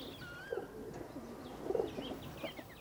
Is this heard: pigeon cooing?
yes